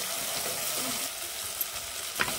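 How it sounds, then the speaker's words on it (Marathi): Tomato with ginger garlic paste fries in a pan for Malvani chicken curry, giving a dense, steady sizzle with a couple of small spoon clicks. "आलं लसूण सुद्धा भाजलं जाईल आणि टोमॅटो सुद्धा चांगला भाजला जाईल"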